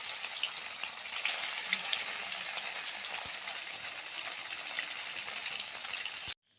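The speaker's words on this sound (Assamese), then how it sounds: "এতিয়া ইয়াতে আমি মাছখিনি ধুনীয়াকৈ ভাজি ল'ম" Pond fish frying in oil in a wok, a steady close crackling sizzle that holds evenly and cuts off abruptly at the end.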